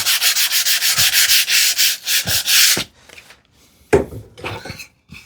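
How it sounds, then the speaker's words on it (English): Wood end grain sanded by hand with 320-grit sandpaper: quick rhythmic rasping strokes, close and loud for about three seconds, then a few quieter scattered rubs and taps. "Just use a 320 grate on the end grain also."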